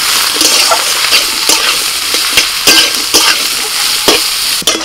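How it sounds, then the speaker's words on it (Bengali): Carrot, capsicum and chopped onion fry loudly in a pan, a steady close sizzle broken by regular scraping stirs of a spatula, with no talking. "সবজি ভাজা হয়ে গেছে"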